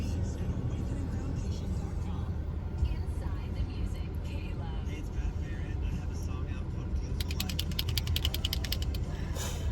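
A parked car at a McDonald's creaks and rattles as its whole body is rocked back and forth, steady mechanical squeaks throughout with a burst of rapid ratcheting clicks near the end, heard under ongoing talk.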